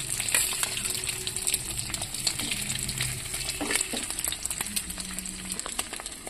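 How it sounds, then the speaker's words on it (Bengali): Egg paneer pieces fry in hot white oil in a pan, a steady close sizzle with scattered crackles and light stirring clicks throughout. "এক এক করে আমি পনিরটা একটু ভেজে নেব লাল লাল করে"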